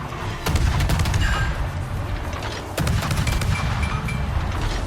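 Rapid naval gunfire from the Akizuki destroyer in a World of Warships-style battle, with sharp shots repeating about every two seconds over a constant engine and sea rumble, loud and near.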